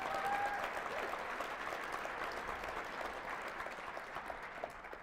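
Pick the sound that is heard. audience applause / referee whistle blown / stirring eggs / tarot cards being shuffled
audience applause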